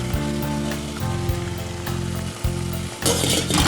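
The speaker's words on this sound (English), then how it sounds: "Let those flavors and sugars boil and blend together." Boysenberry syrup cooking in a pot, a dense steady sizzle and bubbling hiss with a low hum beneath, close and constant, turning brighter and noisier near the end.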